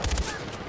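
Rapid gunfire bursts in Far Cry 4, a quick cluster of heavy shots at the start fading into echoing game ambience.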